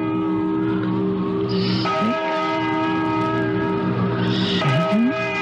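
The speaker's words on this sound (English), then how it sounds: "Listen to that bell." A loud bell tolls with long ringing overtones, struck twice, each strike swelling and hanging in the air over a low hum.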